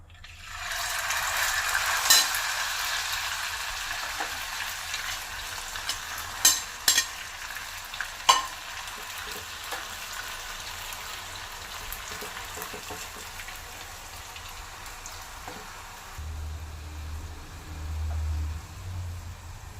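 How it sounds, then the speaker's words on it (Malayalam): Chicken chops frying in a pan for an American chicken chop suey, a steady close sizzle with scattered clinks and scrapes from stirring, ending under a low hum. "അപ്പം ആദ്യം നമുക്കൊരു പോർഷൻ അങ്ങോട്ട് ഫ്രൈ ചെയ്തെടുക്കാം"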